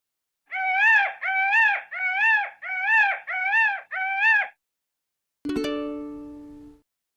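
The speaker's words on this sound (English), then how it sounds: "Peacock." A peacock gives six loud, wailing nasal calls in quick succession, each a drawn-out plaintive cry, close and alone, followed after a pause by a bright chime that slowly fades.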